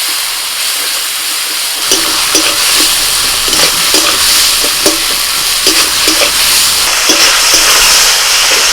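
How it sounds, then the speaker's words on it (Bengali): Ground prawns frying in a spice paste for a kundru and potato dish, with a steady loud sizzle and repeated scraping stirs of a spatula in the pan, no voices. "মশলার সাথে চিংড়ি মাছটাকে এবার ভালো করে একটু কষিয়ে নিই"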